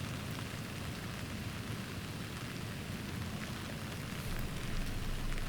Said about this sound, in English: Now it's only drizzling again.